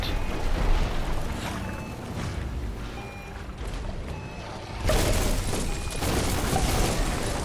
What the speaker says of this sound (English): And there we go. Boom. Explosion.